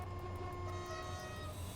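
A faint, steady rumble of a train in the SimRail train simulator rolls by with a sustained tonal whine and rhythmic clatter, somewhat distant and muffled.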